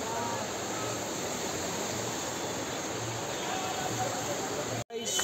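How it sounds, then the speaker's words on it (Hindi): A mountain stream near Nainital rushes steadily with a constant broadband wash of flowing water, close and loud, cut off by a short break near the end. "देखो सुन पानी की आवाज सुनो कभी।"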